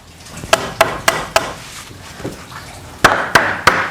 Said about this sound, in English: take your hammer and line it up perfectly